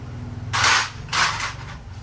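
A tool fires twice in quick succession to knock out the steering bearing cup of a Honda Vario 150 scooter, each burst a short loud hissing blast over a low steady hum.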